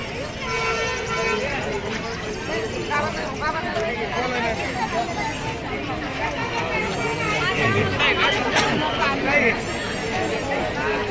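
A dense crowd chatters at the Akkalkot Swami temple in Akkalkot, with steady overlapping voices filling the air and occasional car horns honking through the hubbub.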